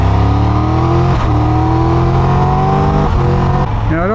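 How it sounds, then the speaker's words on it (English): Triumph Tiger 1200 Rally Explorer motorcycle accelerating hard on an off-road test, engine note climbing steadily through several gears with quick-shifter cuts at each change, loud and close throughout. "we'll try ripping up through the gears with the quick shifter"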